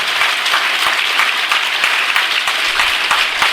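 A workshop group at a medical centre claps loudly and steadily, a dense, sustained patter of many hands close by that continues without pause.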